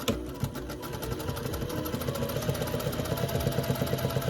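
A sewing machine stitches through fabric in a steady, fast mechanical chatter with a regular rhythmic pulse, running continuously at close range with no talking.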